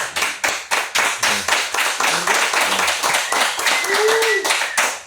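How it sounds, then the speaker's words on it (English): A small audience in a Harlem interview setting claps for a guest named Gusto; loud, close, rhythmic clapping in distinct bursts, with brief faint voices murmuring underneath. "Give him a round of applause"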